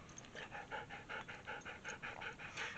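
Dogs pant rapidly and rhythmically close by during a quiet Kundalini yoga meditation, a soft, steady series of quick breaths with no talk.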